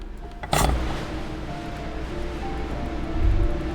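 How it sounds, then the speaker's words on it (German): Waves break in the dark in the video game Disco Elysium, a sudden splash followed by a low rolling wash of surf and a second swell near the end, with soft tonal ambience underneath. "Wellen, die im Dunkeln brechen."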